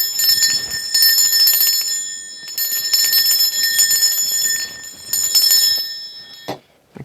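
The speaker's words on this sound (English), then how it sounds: "I'm going to cleanse our energy first just by ringing this bell" A small handheld bell rung repeatedly for an energy cleansing, bright sustained ringing in bursts with pauses between, fairly loud and close, fading out near the end.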